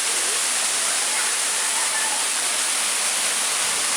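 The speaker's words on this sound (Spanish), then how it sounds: "Está una hermosa cascada, está una fosa ahí." A waterfall roars steadily and evenly, a dense close rush of water with no breaks and no voices.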